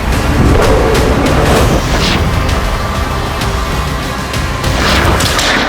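A loud, rumbling explosion in wartime Russian-occupied Donetsk keeps roaring and crackling continuously, heavy and close, with bursts of debris-like noise near the end.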